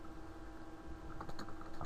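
Computer keyboard keys tapped while typing Java code, a soft, faint run of light clicks that picks up toward the end over a steady background hum, with no voices.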